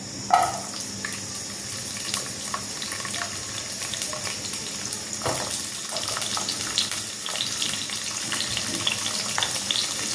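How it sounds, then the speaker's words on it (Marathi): Boiled drumstick pods go into hot oil over a high flame, with a brief clatter at the start followed by a bubbling, crackling fry and scattered sharp pops close by, with no voice. "तेल थोडं तापू द्यायचं आणि त्याच्यामध्ये ह्या शेंगा सोडायच्या"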